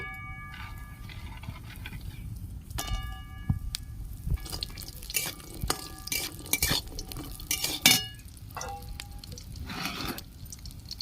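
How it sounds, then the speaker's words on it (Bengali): Lentil dumplings sizzle and crackle as they fry in hot oil, with scattered clinks of a utensil against a pan; no voices. "তেল গরম হয়ে গেছে আমি বড়িগুলো ভেজে নিচ্ছি"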